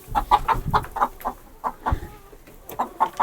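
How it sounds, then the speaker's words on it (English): Heavier-breed farm chickens, Buff Orpingtons, Wyandottes and Barred Rocks, cluck close by in a rapid, uneven series of short calls with brief gaps between bursts. "on our farm, we raise heavier weight type chickens"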